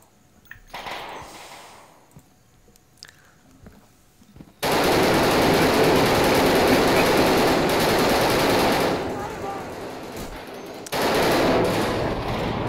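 Automatic rifle fire in the video game Insurgency: scattered distant shots at first, then a loud, sustained burst of machine-gun fire that dips briefly and resumes, with no talk over it.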